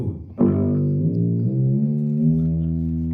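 An electric guitar plays loud through an amp with the guitar's volume on 10. A sharp attack is followed by sustained, rich harmonic chords that shift pitch a couple of times and ring out with no talking.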